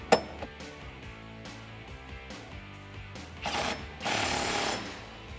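A 13mm socket tightening bolts on a Jeep Wrangler JL running board bracket, giving a sharp metallic clink at the start followed by steady rapid ratcheting clicks, close up with no talk.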